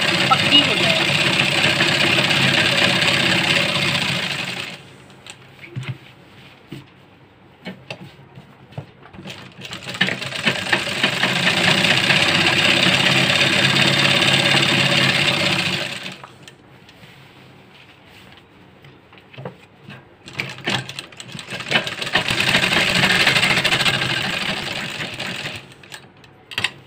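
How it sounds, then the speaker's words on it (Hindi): A sewing machine stitches along the belt of a salwar in three long runs of steady mechanical clatter, separated by quiet pauses with faint handling noise. "इसके बेल्ट के ऊपर सिलाई मारनी है दोस्तों इस तरह से, ताकि हमारी बेल्ट भी पक्की हो जाए।"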